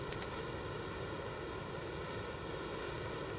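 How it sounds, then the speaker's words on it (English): Steady broadband engine drone of a helicopter hovering in the Call of Duty Mobile game, continuous and fairly faint with no talk over it. "The helicopter is still there."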